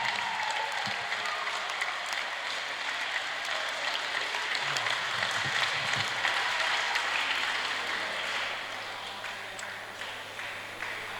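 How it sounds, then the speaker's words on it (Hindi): Sustained, loud applause from a crowd honouring the yoga teachers at a school yoga workshop, dense continuous clapping holding steady for about eleven seconds before tapering slightly at the end. "जोरदार तालियां"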